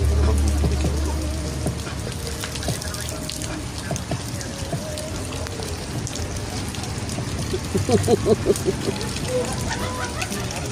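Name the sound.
heavy rain falling during typhoon Uwan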